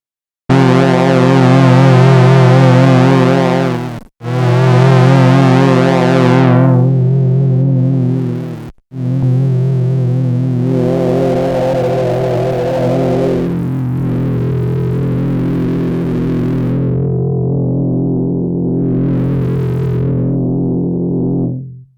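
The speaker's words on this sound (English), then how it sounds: "So this one is more of kind of a decimate type distortion" A sustained synth tone from the BABY Audio BA-1 with gritty, crushed decimate-type digital distortion plays loudly, cutting out briefly twice before continuing and gradually thinning toward the end.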